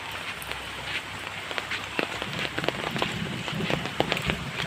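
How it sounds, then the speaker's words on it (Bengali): Heavy monsoon rain falls in a soft, steady hiss with scattered close drops pattering on a surface, fairly faint and without voices. "আরো বর্ষাও হচ্ছে প্রচন্ড।"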